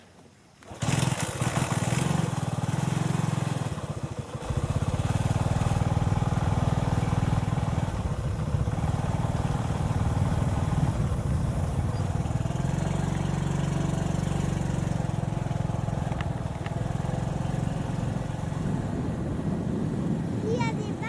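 Motorcycle engine starts with a sharp burst, then runs steadily at a loud, rough idle with a low throbbing rumble that continues unbroken for about twenty seconds close by.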